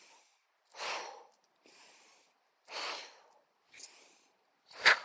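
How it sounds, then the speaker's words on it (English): Deep breaths drawn in and pushed out during a slow qi gong exercise, several soft, airy inhales and exhales in an unhurried rhythm, close and quiet with pauses between them, ending on a sharper, louder breath. "You inhale and exhale."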